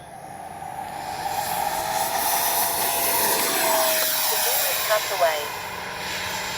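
A Freewing JAS-39 Gripen 80mm EDF radio-controlled jet makes a low pass down the runway, its whine building from afar to a close, loud peak and then fading, with a brief spoken word.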